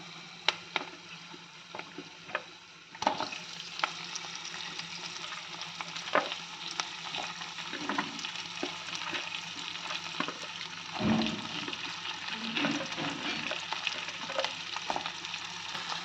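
Capsicum pieces sizzle steadily in hot tempering oil, with occasional scraping stirs and light ticks over a constant frying hiss.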